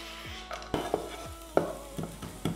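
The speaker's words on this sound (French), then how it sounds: "J'ai le beurre qui est en train de fondre. Ça c'est cool aussi. On va y balancer les échalotes." Shallots in melted butter in a pan, a light sizzle broken by several sharp clatters and scrapes as they are tossed in and stirred.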